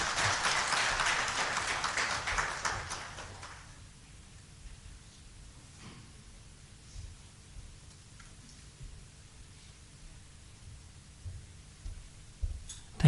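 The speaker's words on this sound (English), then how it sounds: "Can we have a round of applause for Sikandar, please?" Audience applause for a speaker at a Vedanta Center monthly satsang, dense and steady for about three seconds before fading into a quiet room with faint scattered sounds.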